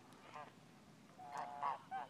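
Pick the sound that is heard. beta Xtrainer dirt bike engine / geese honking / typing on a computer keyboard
geese honking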